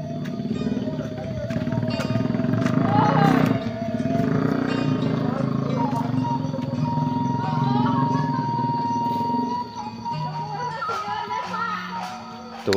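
A motorcycle runs along a road in a rural Sundanese village, its engine droning in the background while adults and children talk over it.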